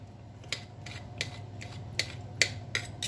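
Cooked hog maws being snipped into small pieces with scissors: about eight crisp, close snips at an uneven pace over a low steady hum, with no talking.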